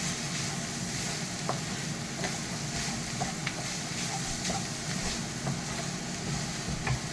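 Green chillies sauté in a pan for a beetroot-leaf thoran, giving a continuous, even sizzle and fry with occasional faint stirring scrapes and clicks, close and steady throughout.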